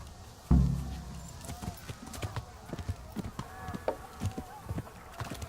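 Rhythmic hoof clip-clops from a horse moving steadily in the video game Kingdom Come: Deliverance, with a sharp thud at the start and occasional talk mixed in.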